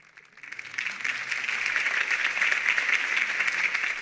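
Crowd applause in a Batman video game swells in after a brief quiet start, then holds as a steady wash of clapping with a slightly distant, processed quality.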